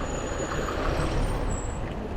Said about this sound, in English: There's shuttle bus number 3 past.